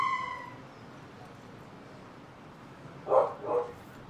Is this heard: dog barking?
yes